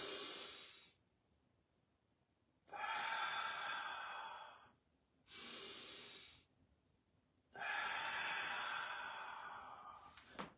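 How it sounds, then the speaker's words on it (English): Three slow, deep breaths, each drawn in through the nose and pushed out through the mouth, close and breathy, with a quiet pause between each one. "breathe in through your nose. You should feel your ribs expand"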